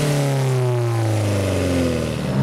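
An Alfa Romeo 4C's engine revs hard under acceleration, a loud, close, continuous drone whose pitch sweeps steadily as the car pulls, with no voices over it.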